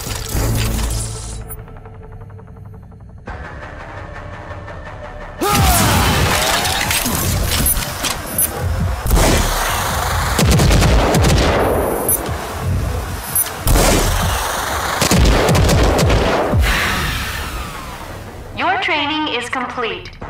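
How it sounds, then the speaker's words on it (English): Rocket launcher overdrive in Rage 2 fires in loud, dense bursts of explosive blasts and crashing debris, sustained over much of the stretch after a quieter opening, with a brief tonal tail at the end. "Use the smart rocket launcher's overdrive against the simulated enemies."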